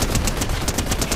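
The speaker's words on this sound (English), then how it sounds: "I'm gonna shoot him in the balls." Rapid automatic gunfire rattles in Fortnite, a fast even burst of about ten loud shots in quick rhythm, close and uninterrupted.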